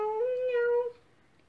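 A cat's meow, one sustained harmonic cry lasting under a second, close and fairly loud, then fading into quiet.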